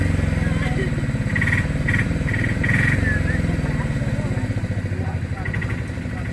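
A motorcycle engine runs loud and close, revving in repeated surges over a rumbling idle, while a voice speaks over it.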